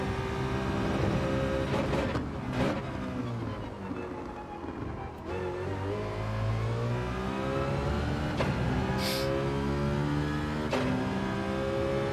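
A Citroen race car in Gran Turismo 7 drones steadily at high revs, its engine tone rising and falling through gear shifts for a sustained, loud stretch with no talking.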